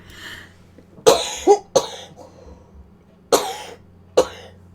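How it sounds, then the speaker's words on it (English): Several harsh, close coughs in uneven bursts, two in quick succession, then a pause before two more, with throat clearing in between. "Always with the freaking coughing."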